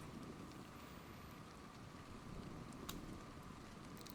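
Rain falls steadily in the video game Ark, a constant soft hiss of drops on the ground that stays low and even throughout, with no voices.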